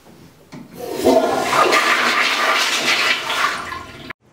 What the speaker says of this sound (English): flush the toilet when they're in the shower.